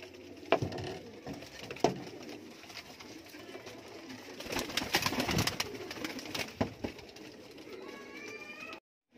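Sialkoti pigeons coo and flutter amid a busy, rustling background with occasional sharp knocks, the calls rising and falling throughout before a brief silence at the end.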